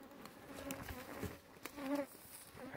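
Honey bees buzz softly around a hive area, a faint, wavering drone with brief louder swells as individual bees pass close.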